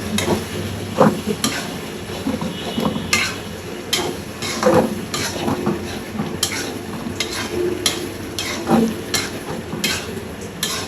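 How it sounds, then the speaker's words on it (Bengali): A spoon scrapes and clinks in a pan of fish curry simmering in oil, with irregular stirring strokes over a soft sizzle, heard up close without talk. "এখন একটু আমি রান্নাটা নাড়িয়ে দেওয়া হচ্ছে জিনিসটা মিশে যায়"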